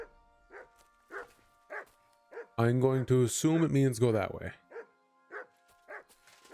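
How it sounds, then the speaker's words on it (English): A dog barks repeatedly in short, evenly spaced yaps throughout, with someone talking over the middle stretch before the barking continues alone. "Dog, shut up."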